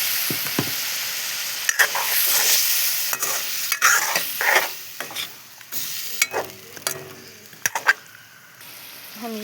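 Fish sizzles loudly in spiced oil for a Bengali machher jhol, a bright steady frying hiss punctuated by spatula scrapes and knocks against the pan.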